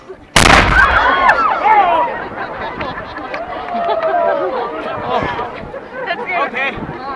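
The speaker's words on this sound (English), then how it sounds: "they're about to shoot off this modern cannon" A modern ceremonial cannon fires once in Edinburgh, a sudden sharp boom close by, followed by lingering crowd chatter and voices.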